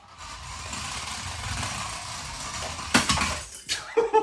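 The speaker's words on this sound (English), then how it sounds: "Should I just crash them against the shelves?" Toy RC cars, a Lightning McQueen and a Mater, smash into shelves after a low whirring stretch, with a sharp crash followed by several quick rattling clatters of plastic pieces near the end.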